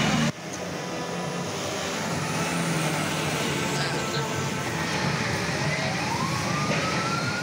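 A wailing fire engine siren rises and falls steadily over a dense roar of street noise, fairly loud and continuous throughout.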